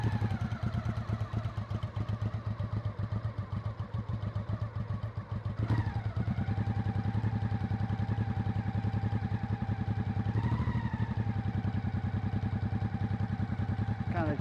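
A Honda Shadow motorcycle engine warms up on choke with a steady, close, throbbing idle. Its pitch rises briefly twice as the revs climb a little before settling back. The rumble runs continuously, with no talking over it.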